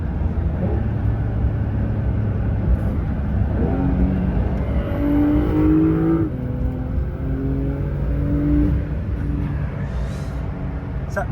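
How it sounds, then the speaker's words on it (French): Porsche 911 Carrera GTS accelerating hard, the engine note climbing through the revs with a gear change and rising again, loud and close from inside the car, with no talking. "collé au siège, genre une accélération, c'est comme ça"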